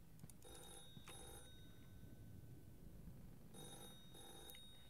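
A telephone rings in the indie horror video game The Floor Is Breathing, with two paired bursts of ringing near the start and two more near the end, set against a low ambient drone.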